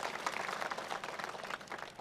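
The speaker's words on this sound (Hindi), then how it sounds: "जोरदार ताली बजा करके स्वागत करिए।" Steady applause from an audience at a party workers' gathering in Shibupur, Auraiya, dense and sustained clapping throughout, fairly even in loudness with no voices over it.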